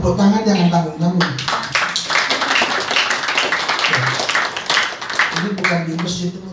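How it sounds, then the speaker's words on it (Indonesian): Audience at an evangelical healing rally clapping hands in a dense, sustained patter that fills the middle of the moment, with a voice speaking before and after. "tepuk tangan jangan tanggung-tanggung"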